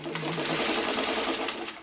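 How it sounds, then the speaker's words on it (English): A domestic sewing machine joins two quilt block pieces with a quarter-inch seam in one continuous close whir lasting under two seconds, with no talking. "now I'm going to take these two pieces and sew them together"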